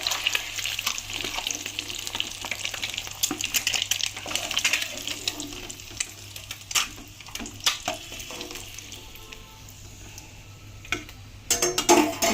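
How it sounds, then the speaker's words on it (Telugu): Chicken and eggs fry in oil in a pan, a busy crackling sizzle with scattered pops and clicks of stirring, moderately close and fading slightly toward the end. "ఇవి బాగా వేపుకోవాలి ఎర్రగాన."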